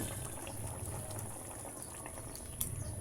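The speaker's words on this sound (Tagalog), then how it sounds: "kumukulo na siya kanina pa" Coconut milk liquid bubbles and simmers steadily in a pot, a continuous soft gurgling with occasional small pops, close up and uninterrupted.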